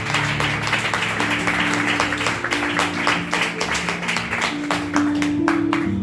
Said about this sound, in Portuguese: Alguém pode glorificar a Deus com palmas?